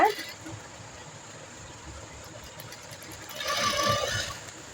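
A sewing machine stitches a round chudidar collar onto canvas, a soft steady mechanical whirr running under quiet background sound, growing a little louder and busier near the end.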